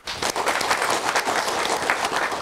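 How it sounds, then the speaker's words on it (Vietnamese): An audience at a televised New Year gathering breaks into a full, continuous round of applause, close and consistent from start to finish. "Chúng ta dành một tràng pháo tay cho niềm tin này."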